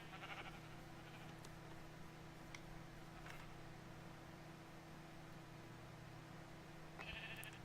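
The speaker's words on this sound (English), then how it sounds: "I got a lot of sheep." Faint sheep bleats in a Minecraft modpack game, a few short bleats near the start, mid-clip and end over a constant low hum.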